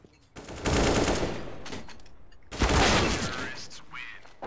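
In a video game, bursts of rapid automatic gunfire rattle in two long sustained volleys. The shooting is loud and dense, with players talking faintly underneath.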